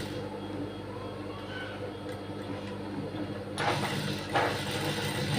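A sewing machine stitching thread piping onto fabric along a corner and edge, running as a steady mechanical whir with a busy clicking rhythm that picks up and grows louder in the last two seconds, with no talking.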